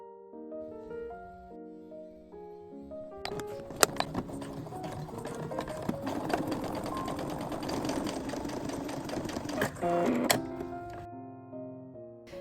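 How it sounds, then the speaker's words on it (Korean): A Brother C150VL sewing machine stitches outer and lining fabric together for a pouch, running in a fast, steady mechanical rattle for about seven seconds over soft background music. "위아래를 1cm 간격으로 재봉합니다"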